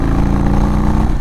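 A Stage 2 2022 Indian Chief Dark Horse motorcycle pulling in fourth gear, its engine a loud, smooth, steady low drone heard up close, rich in harmonics and unbroken, with no voices over it.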